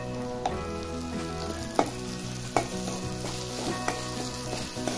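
Sprouted moth bean curry (matki usal) being mixed in a hot pan: a continuous sizzle broken by regular sharp scrapes and taps of a spoon against the pan, no voices.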